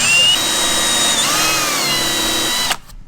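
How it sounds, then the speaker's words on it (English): A power drill whines loudly and steadily as it bores out aluminum rivets from a plastic car bumper, its pitch wavering slightly, then cuts off abruptly near the end. "Drilling aluminum rivets out of plastic bumper."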